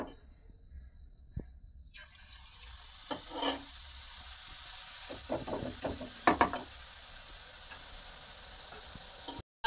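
Gram flour boondi frying in hot oil, a steady bright crackling sizzle that swells in after a quiet start, with occasional spoon clinks and taps over it, close and without talk.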